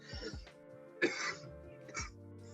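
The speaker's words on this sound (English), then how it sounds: "Who's coughing?" Cough and throat clearing from a participant accidentally left unmuted on a live forex trading stream call, a few short harsh bursts spread over a couple of seconds, moderately close.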